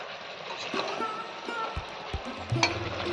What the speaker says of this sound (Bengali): হলুদ গুঁড়ো একটু জিরের গুঁড়ো আর সামান্য লঙ্কার গুঁড়ো দিয়ে আরেকবার কষিয়ে দেবো মশলাটাকে